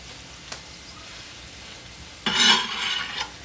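Brussels sprouts being stirred in oil in a pan: a brief clink early, then a burst of scraping and sizzling for about a second near the end, close and moderately loud.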